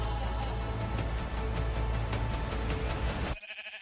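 Minecraft sheep bleating in a video game, a run of short repeated bleats over busy game sound before it cuts off abruptly near the end.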